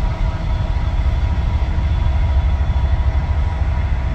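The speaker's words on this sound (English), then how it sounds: "Better look at the GT locomotive down there." A GT diesel locomotive runs at a railway museum during a diesel event, giving off a loud, steady low rumble and drone with no pauses.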